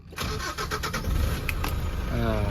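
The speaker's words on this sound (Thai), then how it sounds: "สตาร์ทฟังเสียงเครื่องยนต์กันนิดนึงนะครับ" A Nissan Navara pickup truck engine cranks briefly and catches, settling into a low steady idle right nearby.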